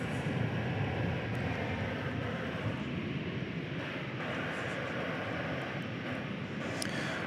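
An American Airlines jet departs DFW Airport bound for Denver, a steady broadband engine roar filling the whole stretch at an even level, with no speech.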